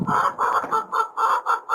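Rhode Island Red hens clucking in a rhythmic series of short, bright, close calls, about seven in under two seconds, with a breezy morning outdoors in Central Oregon.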